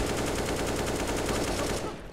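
Rapid automatic gunfire in the CS:GO shooter, a loud dense burst of evenly spaced shots lasting about two seconds before cutting off.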